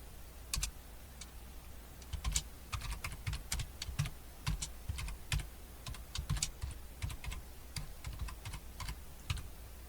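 Steady typing on a computer keyboard while entering code, with quick irregular key clicks and occasional heavier strokes, close and fairly quiet, and no one speaking.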